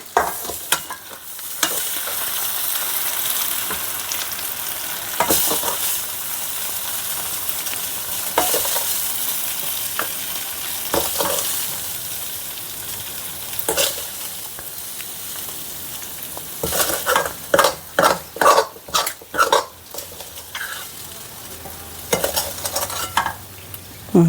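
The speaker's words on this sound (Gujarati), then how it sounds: "હલાવી નાખીશું" A spoon stirs khichdi-stuffed green chillies in a hot pan. Scraping strokes repeat over a steady oily sizzle, and a quick run of close, sharp stirring knocks comes near the end.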